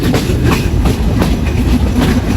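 The Sundarban Express runs on tracks in Bangladesh near an old railway junction, heard from on board as a loud, continuous rumble with a steady clickety-clack of wheels over rail joints.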